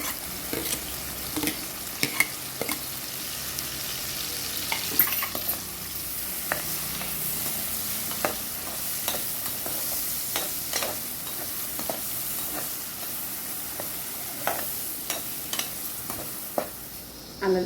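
Chopped onion fries in hot oil for a pointed gourd sabji tempering, a continuous close sizzle broken by repeated sharp scrapes and clicks of stirring throughout; nobody speaks.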